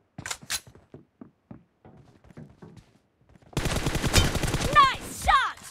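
Gunfire in the video game PUBG starts with a couple of sharp shots and some lighter clicks, then breaks into a loud, dense burst of rapid automatic fire with voices calling out over it.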